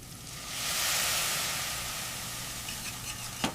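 Beef stock poured into a hot browned flour roux, giving a steady broad sizzle and hiss that swells and then settles, with a small clink near the end and no voices.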